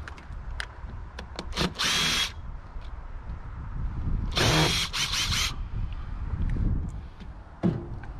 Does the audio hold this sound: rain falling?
no